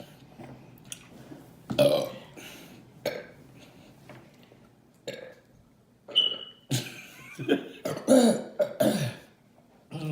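Mother and daughter trading loud burps in a burping challenge, several long croaky belches separated by pauses, with brief vocal noises and light laughter between them, close and intimate.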